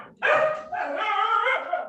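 Dogs bark at home behind a Zoom meeting: a quick yip followed by a longer, loud burst of excited barking close to the microphone, with no talk over it.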